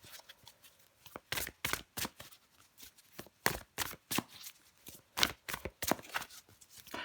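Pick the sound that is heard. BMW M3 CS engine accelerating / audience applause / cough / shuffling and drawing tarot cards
shuffling and drawing tarot cards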